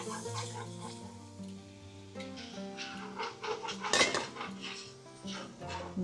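A utensil scraping and clinking against a pan while milk is stirred into sausage gravy, with steady metallic clatter and a louder clank midway, close up over a faint background hum.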